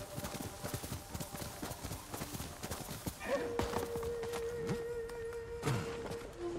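Steady hoof clip-clops of a horse walking in the video game Ghost of Tsushima, with a brief whinny partway through and a long tonal hum sustained over the second half.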